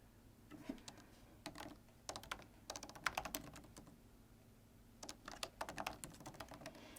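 Computer keyboard typing while a new email address is entered, quiet clusters of light, quick key taps in several bursts with short pauses between, no voices.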